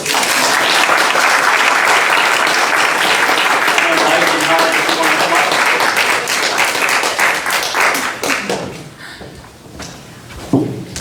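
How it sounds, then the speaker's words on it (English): Loud, sustained applause from an audience at a mayor and council regular session, dense clapping filling most of the stretch before thinning and tapering off near the end, with some voices mixed in. "let's give him a round of applause"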